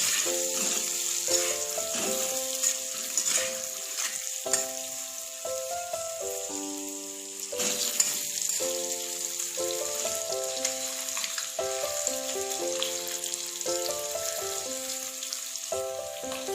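Duck eggs fry in oil in a kadai, a continuous soft sizzling hiss running underneath louder melodic background music for the whole stretch, with no talking.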